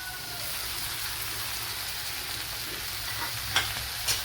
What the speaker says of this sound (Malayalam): ഇനി ഇതിലേക്ക് നമ്മുടെ ഫിഷ് ആഡ് ചെയ്ത് കൊടുക്കാം